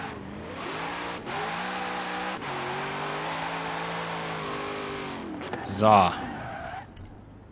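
A Corvette Z06 engine drones steadily in a Forza Horizon 4 street race, gear changes breaking the hum, then a short tire screech and a burst of louder noise near the end, with someone talking over it.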